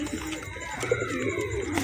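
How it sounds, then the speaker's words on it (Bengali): Chandrakhani Rampuri pigeons coo softly and steadily close by, a low continuous murmur over faint background noise. "এবার পায়রা দুটো দেখাচ্ছি আপনাদেরকে"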